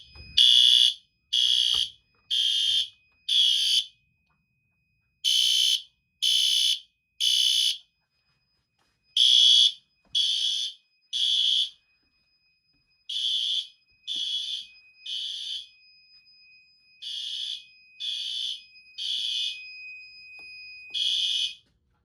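A PSDA model fire alarm notification appliance sounds loudly during a system test, in repeated groups of short electronic beeps, with pauses between bursts and a faint steady tone running beneath.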